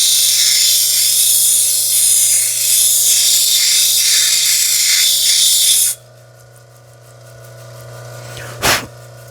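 A lapidary wheel grinds a divot out of petrified wood, a loud bright hissing whine held steady for several seconds, then cutting off abruptly to a low motor hum with one brief sharp scrape near the end.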